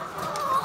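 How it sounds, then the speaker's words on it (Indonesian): Laying hens on a chicken farm give a short, soft clucking call over a steady background hum of the flock. "Iya, ayam-ayam siap-siap bertelur."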